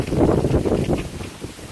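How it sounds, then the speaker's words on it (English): Strong cold wind gusts outdoors, buffeting the microphone in rough low rumbling bursts, loud and close, over less than two seconds. "it's really windy out here"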